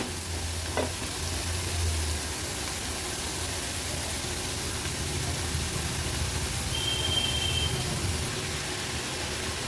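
Amaranth greens added to onions fry in a pan with a continuous sizzle, occasional stirring scrapes and a faint tap early on, steady and moderately close, with no speech.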